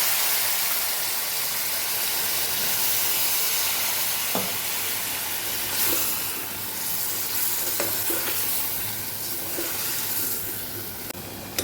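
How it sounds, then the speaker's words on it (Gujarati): Water hits a hot pan of stuffed aubergine and potato curry with a loud sizzle, followed by a steady steamy hiss and a few scraping stirs. "થોડું પાણી ઉમેરી દઈશું આપણે"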